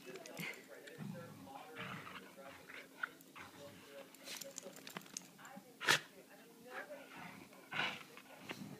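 A puppy wrestling with a young child, giving small whimpers, snorts and brief yips at close range over a steady background, with people talking throughout.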